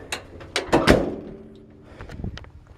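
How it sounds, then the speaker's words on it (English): Door of a 1951 Chevrolet 3100 pickup truck being worked, a few sharp metallic clicks and clunks of the latch followed by a heavier thunk, then quieter creaks and taps, all close and without talk. "doors seem to open up good."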